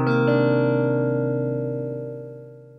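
A minor 9 chord in a city pop style rings out as a single sustained chord with a quick note added just after the attack, then decays gradually, heard close and alone.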